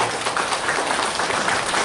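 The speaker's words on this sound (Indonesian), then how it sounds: "Tepuk tangan untuk Ustadz Haris Ranosa." Audience applause for a speaker at an Islamic parenting lecture, a brief burst of scattered clapping from a crowd at moderate volume.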